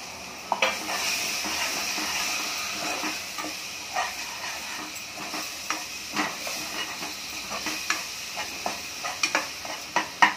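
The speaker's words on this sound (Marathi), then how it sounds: "हा मसाला कच्चा आहे त्याच्यामुळे" Raw ground masala frying with eggplant in a hot oiled wok, a steady sizzle and hiss with scattered clinks of a spoon stirring against the metal, building toward the end, close up and with no voices.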